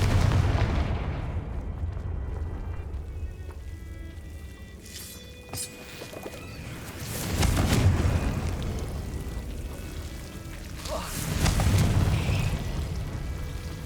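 Confringo spell blasts in Hogwarts Legacy, heavy booming explosions with a rumbling low end that swell and fade in waves, two big surges standing out over a continuous background roar, no talking.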